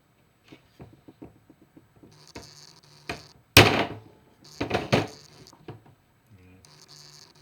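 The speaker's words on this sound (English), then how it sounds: "I'm going to try to drive this out." A hammer striking to drive a pin out of a Datsun 280Z distributor: scattered light taps and scrapes build to several heavier, ringing thunks, then trail off into quieter tapping.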